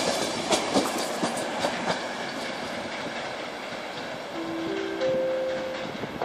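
An EP09 electric locomotive hauling an EIC express train departs Warszawa Wschodnia station, with steady rolling rumble and rhythmic wheel clatter over rail joints, plus a brief high squeal of wheels toward the end.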